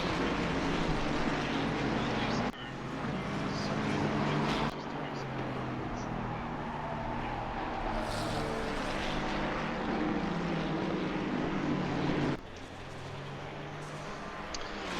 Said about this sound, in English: we'll do some in-car views when I'm not talking, just to hear some engine noise